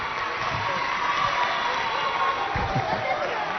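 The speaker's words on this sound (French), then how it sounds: "On les applaudit bien fort, tout le monde" Studio audience at a televised school quiz competition clapping and cheering loudly: a sustained wash of applause and crowd noise, close and even throughout, with scattered shouts.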